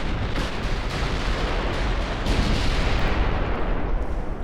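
Battleship guns fire in the naval warfare game Ultimate Admiral: Dreadnoughts, a dense, loud roar of rumbling booms and blasts rolling together continuously, with no talking.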